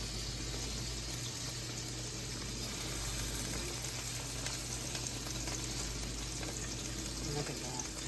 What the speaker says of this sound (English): they are going into the butter to get a nice sear